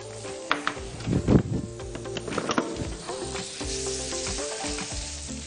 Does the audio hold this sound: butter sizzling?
yes